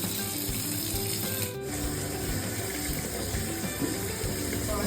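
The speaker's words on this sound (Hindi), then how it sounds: "यहाँ पे नल चल रहा है क्योंकि अभी पानी भरना है मुझे।" Kitchen water tap running steadily at home, a constant broadband rush of flowing water filling a container, with faint clatter in the background.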